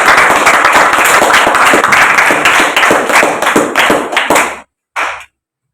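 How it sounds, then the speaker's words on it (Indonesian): Classroom group applauds a student group after a presentation, loud dense hand clapping close by that thins into a few separate claps, cuts off abruptly, then one short final burst. "Tepuk tangan untuk kelompok 3."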